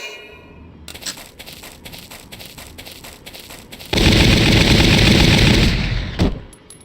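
A Gatling beam in Valkyria Chronicles fires a rapid stream of sharp crackling shots, then turns into a roaring, sustained loud blast that tapers off into a final crack.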